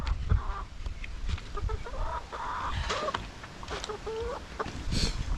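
Farm chickens cluck and call repeatedly in a close, busy chorus, with overlapping short clucks and rising calls over a low rustling background.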